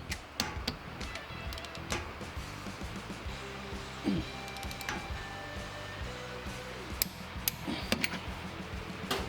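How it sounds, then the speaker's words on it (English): A torque wrench clicks as it tightens the larger differential brace bolts on a Dodge Challenger to 90 foot-pounds. Sharp, separate clicks stand out over a steady whirring hum, close by. "Now we got to come back with a torque wrench. 90 foot-pounds on your bigger bolts."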